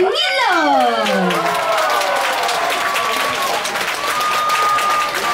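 Cruise ship passengers applaud the executive chef in a dining hall at sea, with steady, dense clapping and a bright rising whoop or cheer near the start. Voices mingle in the crowd throughout.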